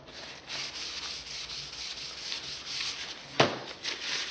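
Bare copper is wiped clean with paint thinner or acetone, a steady soft rubbing and scuffing close by, with one sharper scrape near the end and no voices.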